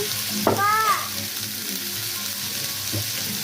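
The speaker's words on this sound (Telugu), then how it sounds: "టమాటా ఉల్లిగడ్డ అన్నీ వేసేసాను వేసి ఒక ఫైవ్ మినిట్స్ ఇట్లా మగ్గిస్తే సరిపోతుంది" Chopped tomato and onion sautéing in hot oil for a ginger chutney, a continuous close sizzle with a brief stirring clatter near the start, then steady frying alone.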